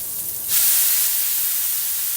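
Pork pieces drop into a hot pan for adobo and burst into a loud, steady sizzle that rises abruptly and hisses on without pause.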